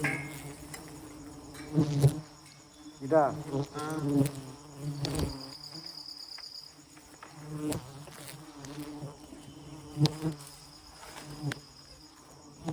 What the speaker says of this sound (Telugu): ఈగలు మాత్రం చాలా కోపంగా ఉంటాయి